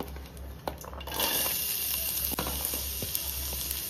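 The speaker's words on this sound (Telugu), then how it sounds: "ఇప్పుడు ఇందులో ఉల్లిపాయలు వేసుకోవాలి" Onions dropped into a hot pan, a bright hiss that swells and stays steady after a second, with a few utensil clinks against the pan.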